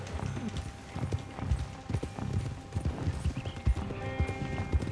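Horse hooves clip-clop steadily in Red Dead Redemption 2, a loud galloping rhythm with a horse whinnying and wagon rumble mixed in, while game action plays around it.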